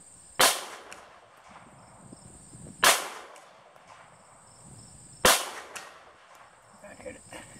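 Three sharp 7.62x25 pistol gunshots fired outdoors toward a target 100 yards away, each a loud crack with a decaying tail, spaced about two and a half seconds apart over a steady high whine.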